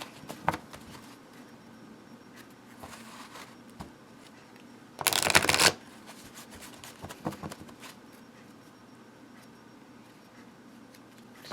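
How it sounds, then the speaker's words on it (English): A brief, crisp riffle of oracle cards being shuffled, a quick papery burst standing out against quiet room background with faint handling noises. "Let's shuffle some of these up here."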